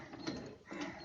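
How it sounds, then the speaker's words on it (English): A wrench working a bolt loose on a Hero Maestro scooter during spark plug removal, with quick ratcheting clicks over about a second, close and fairly quiet. "Now take the bolt removing wrench"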